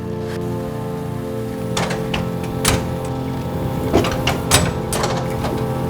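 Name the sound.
old printing press running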